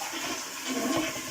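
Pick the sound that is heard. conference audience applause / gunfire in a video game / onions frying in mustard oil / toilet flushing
toilet flushing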